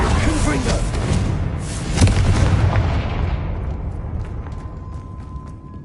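A Confringo explosive spell goes off in Hogwarts Legacy as a loud booming blast with a second burst midway, then a long rumbling decay that fades away, with talk over it.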